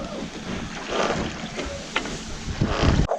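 A Dazcat 1195 catamaran sails under mainsail alone on an ocean passage, with water rushing and sloshing along the hulls, gusts of wind buffeting nearby, and a few sharp knocks.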